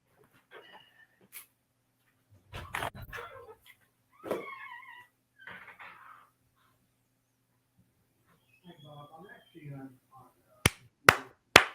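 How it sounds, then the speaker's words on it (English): Three sharp hand claps in quick succession ring out near the end, marking a break in an interview recording after stretches of quiet conversational speech. "I'm clapping for the audio tape to know that we took a break in the recording"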